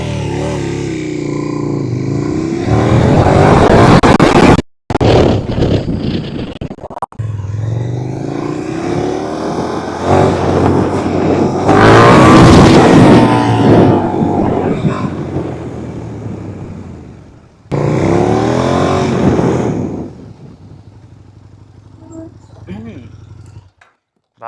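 A KTM 1290 Super Duke R motorcycle accelerating hard, its engine roaring loud and close in long surges with brief gaps between bursts, while wind noise rushes over it.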